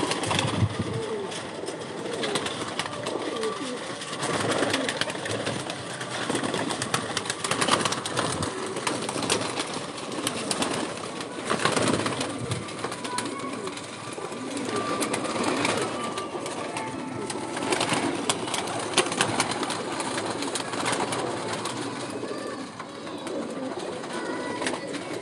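Pigeons kept by a fancier coo softly in a loft, their low calls scattered amid continuous ambient noise and occasional wing movement, with no clear speech.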